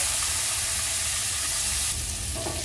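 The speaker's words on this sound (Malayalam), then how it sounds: "ഇതിനകത്ത് കിടന്ന് ഈ മുട്ടയൊന്ന് ഫ്രൈ ആയിട്ട് വരണം" Eggs fry in masala in a pan for a dhaba-style egg curry, giving a steady, close, continuous sizzle with faint stirring scrapes and no talking.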